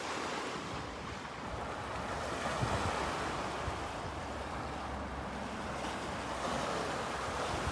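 Ocean waves wash in a continuous broad roar, with wind buffeting the microphone throughout and no voices.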